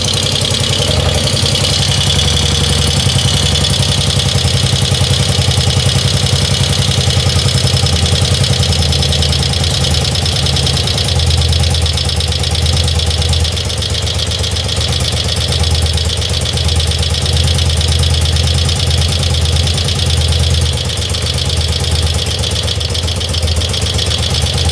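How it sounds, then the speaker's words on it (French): A car engine idles loudly and steadily close by while its idle adjustment screws are tuned, a continuous low, even rumble with slight knocking texture and no talking. "savoir si on peut baisser le ralenti en jouant sur les vis de réglage"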